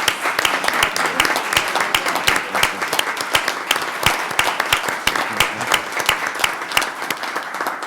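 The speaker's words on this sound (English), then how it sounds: "she deserves a round of applause" Steady round of applause from a city commission meeting audience, dense overlapping claps sustained for several seconds at a fairly close, even level with a murmur of voices underneath.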